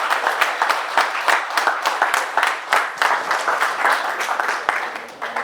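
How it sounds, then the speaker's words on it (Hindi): Seminar audience clapping in a hall, a lively burst of many hands with uneven rhythmic peaks, close and fairly loud, sustained for several seconds. "तालियां दो उधर।"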